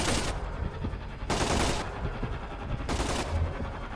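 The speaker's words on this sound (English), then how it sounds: "they will unload a gun into your spot as usual" Enemy gunfire in Splinter Cell: Conviction comes in three loud bursts of automatic fire, each lasting about half a second, separated by quieter stretches of rattling shots.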